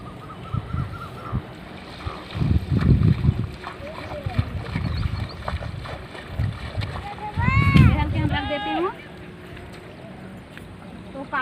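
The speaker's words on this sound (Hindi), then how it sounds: "तो आप देख सकते हैं लड़के बच्चे कितने खुशी से बेहन धो रहे हैं।" Children splash and rinse rice seedling bundles in a flooded paddy, with irregular watery splashes and sloshing bursts under wind noise and scattered voices and bird calls.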